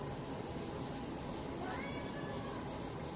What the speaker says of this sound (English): So with the 500 grit, it goes relatively quick to get that gray primer off.